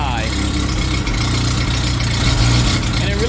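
An engine idles roughly at half choke, running low and uneven as if about to stall, with a continuous loud rumble close by and someone talking over it.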